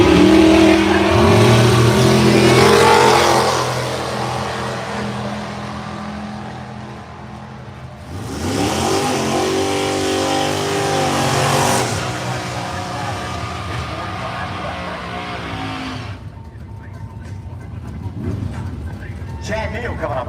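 Drag race cars at Bradenton Motorsports Park's Pro Mod winter series thunder off the line and howl down the strip in two loud surges that fade into the distance, with an announcer's voice over the noise.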